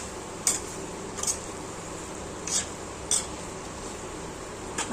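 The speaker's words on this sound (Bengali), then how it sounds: "পনিরটাকে ভালো করে মশলা দিয়ে কষানো হচ্ছে" Paneer stir-fried with spices in a pan, with a handful of bright metallic scrapes and taps of a utensil against the pan at irregular intervals over a steady low background.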